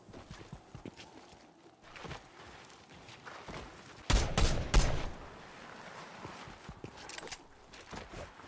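Gunfire in a Fortnite Build Mode FNCS match: a few quiet shots early on, then a loud, close cluster of three or four sharp bursts midway, with softer shots and footsteps scattered around it.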